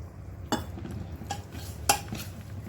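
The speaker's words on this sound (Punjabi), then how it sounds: "ਹੁਣ ਅਸੀਂ ਇਹਨੂੰ ਪਾਣੀ ਪਾ ਕੇ ਚੰਗੀ ਤਰ੍ਹਾਂ ਮਿਕਸ ਕਰਾਂਗੇ" A bowl of semolina idli batter being mixed with water, heard as a few sharp spoon-on-bowl clinks and scrapes at intervals over a quiet kitchen background.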